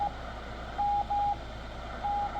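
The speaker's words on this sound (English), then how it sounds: "when I put my radio in decode, I can't decode it, and I don't do CW" A slow Morse code CW signal received on a ham radio, a steady tone keyed on and off in long dashes and short gaps over a constant bed of band noise and hiss.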